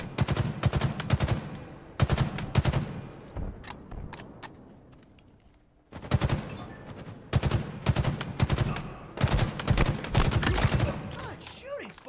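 Rapid bursts of gunfire from the Halo video game, loud dense volleys of shots in clusters with a brief lull midway, mixed with game sound effects and a voice.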